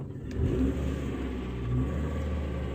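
A car engine runs close by with a steady low rumble, swelling slightly as it revs before settling back to an even idle.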